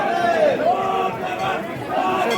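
Pilgrims crowd Badrinath temple in October, producing a steady, dense murmur of many voices with a louder nearby voice rising over it throughout.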